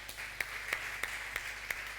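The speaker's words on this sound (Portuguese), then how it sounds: "uma ofrenda de aplauso à igreja" A church congregation offering brief applause, steady clapping with regular soft peaks, heard at a distance in a large room.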